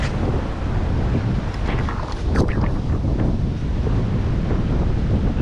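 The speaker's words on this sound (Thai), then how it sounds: "ลมแรงมากครับทุกคน" Strong wind roars steadily across the microphone on a beach at Koh Kood, Thailand, under an overcast, rainy sky, with surf washing in the background; the buffeting is loud and continuous throughout.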